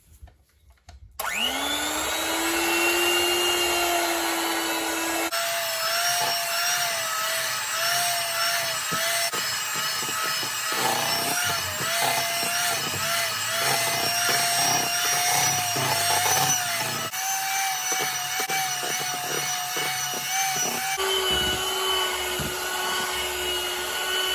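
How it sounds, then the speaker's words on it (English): Butter and sugar being mixed until fluffy for a Jamaican Christmas rum cake, a loud continuous whir of an electric mixer with shifting pitch and a rattling, scraping texture, steady and close, with no voices. "now I'm going to mix my butter and sugar until it is fluffy"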